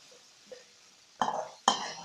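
Dhaba-style fried okra (bhindi) being stirred in an oiled pan, with two sharp scraping clatters of the utensil against the pan over a faint background hiss.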